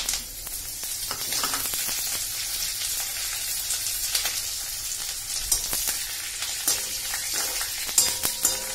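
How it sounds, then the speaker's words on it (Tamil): Dried red chillies fry in hot oil for Chettinad mutton chukka, giving a steady close crackling sizzle with scattered sharp pops and brief stirring scrapes throughout, no voices. "நல்லா கொஞ்சம் நல்லா வறுக்கட்டும் அந்த மிளகாய்."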